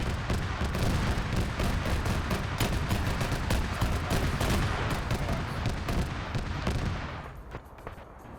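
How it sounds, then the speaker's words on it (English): Dense, continuous gunfire and shooting from a PvP video game battle, a loud barrage of overlapping shots and bursts that rolls on without pause for most of the clip, then thins out near the end. "Also, they're shooting."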